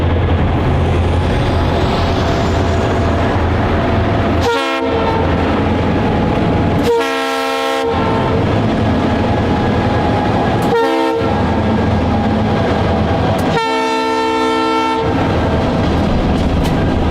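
Local freight train hauled by a pair of GP38-2 locomotives passing with five cars, its horn sounding in four separate blasts, two short and two long, over the steady rumble and clatter of the train.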